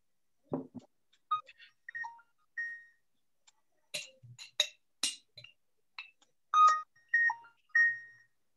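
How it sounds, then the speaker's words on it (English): A phone sounds a melodic alert set off by a Fitbit 2 find-my-phone feature: a string of short electronic beeps and tones, clean and isolated, with silent gaps between. "My Fitbit 2 has a feature where it helps me find my phone."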